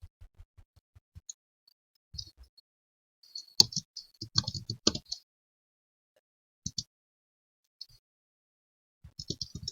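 Sparse clicks of typing on a computer keyboard, faint and close, coming in irregular short bursts separated by long quiet gaps.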